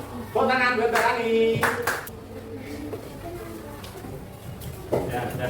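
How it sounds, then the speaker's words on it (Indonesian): A short burst of hand clapping from a small group in a classroom-style session, with a musical or sung tone over the start, then quieter room sound and a brief second clap near the end. "Tepuk tangan buat Mbak Tani."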